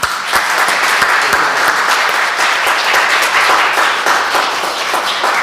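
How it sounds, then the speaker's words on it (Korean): A church congregation applauds together after a youth praise team's performance, dense steady clapping filling the room at full volume for several seconds with no talking over it. "박수 한번 하겠습니다."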